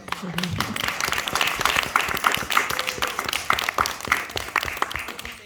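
An audience at an International Women's Day fashion event in Folkestone claps steadily for the clothes and a model, dense close handclaps sustained throughout with a voice briefly audible at the start.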